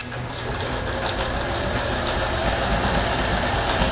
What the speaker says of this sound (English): there's sanding going on outside and someone's weed whacking outside this window